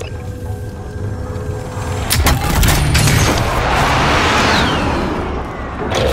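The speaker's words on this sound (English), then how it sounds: "Allied precision airstrike incoming." Precision airstrike explosions in Warzone: after a quiet start, sharp booming blasts hit around the two-second mark, then a long rolling roar of further detonations and debris that slowly fades, loud and close.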